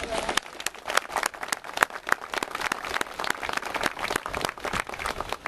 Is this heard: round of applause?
yes